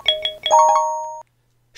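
A phone notification chime plays alone: a quick run of bright electronic tones followed by a sustained ringing tone that holds for about a second, then silence.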